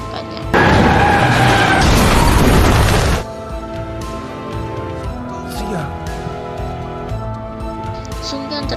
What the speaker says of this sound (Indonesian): Lalu ada sebuah mobil menabrak mereka berdua.